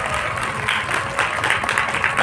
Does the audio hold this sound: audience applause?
yes